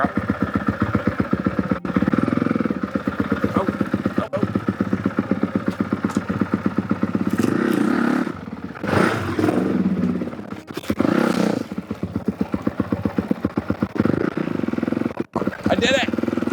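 A Honda Works Edition off-road motorcycle engine idles with a rapid, even mechanical pulse close by, joined by scraping and clatter and a couple of brief revs midway, while a person talks over it.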